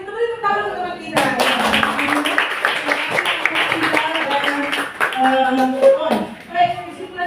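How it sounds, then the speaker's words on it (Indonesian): A classroom of students claps for a classmate, scattered uneven hand claps mixed with a teacher's voice and chatter, fairly close and moderately loud. "Kita beri tepuk tangan untuk teman kita."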